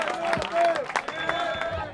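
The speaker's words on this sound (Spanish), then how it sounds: "¡Aplauso!" Audience at a 2015 regional rap battle in Seville breaks into a short burst of applause and cheering, a dense crowd roar with scattered claps and shouts lasting under two seconds.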